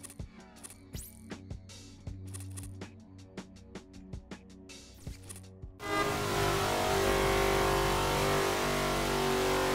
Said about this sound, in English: I'm driving my car really fast, cause it's fun.